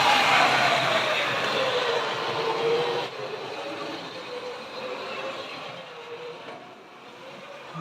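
A model train runs on a layout, giving a steady whirring, rolling hiss that drops slightly in level partway through and continues as it moves away.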